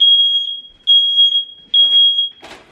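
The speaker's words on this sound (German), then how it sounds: "Das ist der Alarm, weil der Toaster ohne App betrieben wird." A smoke alarm set off by a toaster shrieks in three loud, piercing high-pitched beep bursts, with a brief scrape of movement near the end.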